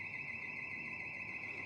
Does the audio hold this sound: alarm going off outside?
yes